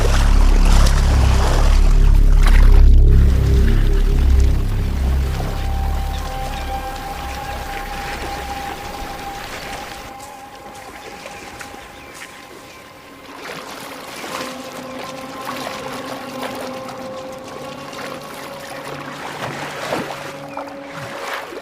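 Leopards with splayed hooves and long hind legs power through water, heavy sloshing and splashing loud at first, then quieter rippling and trickling water with intermittent splashes.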